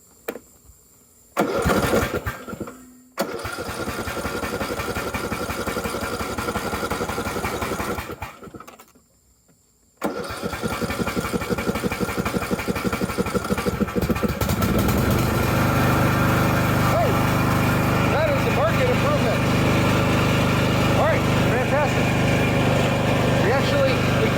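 A Husqvarna LTH 18538 lawn tractor engine cranks in a few short tries with brief pauses, then catches and settles into a loud, steady running drone that continues to the end.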